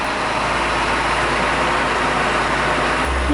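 A Lada car's engine runs steadily while it parks, a loud continuous rumble with broadband road noise throughout.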